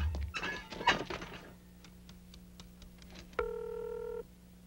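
A telephone is dialed to call a prosecutor in a Filipino comedy film scene: a few quick button presses and thunks, then a steady electronic tone holding for about a second, in a quiet room.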